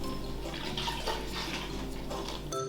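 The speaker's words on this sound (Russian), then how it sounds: "Вливаем пол-литра теплой воды." Half a litre of warm water streams steadily and close by as it is poured into flour for pizza dough, a continuous splashy trickle that stops abruptly near the end.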